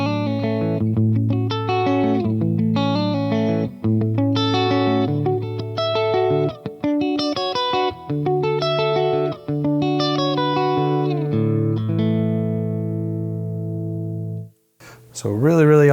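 Electric guitar through a Boss Katana amp with the presence control turned fully down, a dark, rounded sequence of ringing chords and single notes with short gaps, with a brief burst of another sound at the end.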